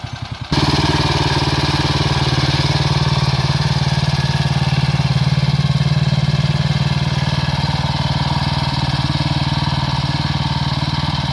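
A mini loader tractor fitted with a hydraulic auger runs steadily at close range, its engine holding a continuous loud mid-pitched drone after a brief start, with no talk over it as reverse is about to be engaged.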